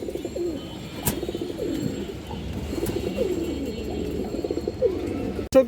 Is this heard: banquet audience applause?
no